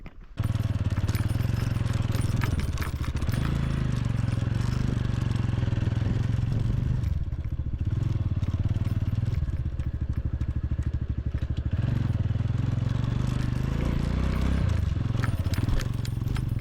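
A motorcycle is ridden over a bumpy, potholed road near the Mettur Dam area, its engine a continuous close drone with rattling and clatter from the rough surface, and no speech.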